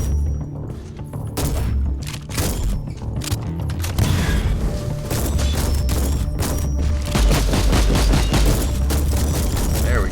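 Shotgun blasts in the game Inquisitor Martyr pound a Dreadnought, a dense run of heavy booming thuds and crackling impacts layered over constant loud battle noise throughout.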